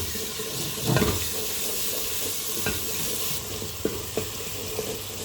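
Ginger garlic paste with onions frying in a pan, a steady sizzle with occasional stirring scrapes, fairly close and moderately loud, with no voices.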